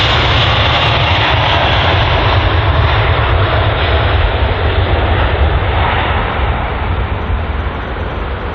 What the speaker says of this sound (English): the British Airways one just departs in front of us